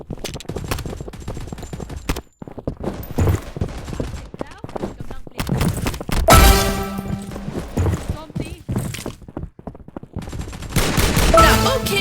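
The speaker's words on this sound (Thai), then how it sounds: "มีคนยิงฉันอยู่" Gunfire in the battle royale video game Mini World Royale: loud bursts of rapid shots and fusillades mixed with game effects and clip-clopping, while a voice talks over much of it.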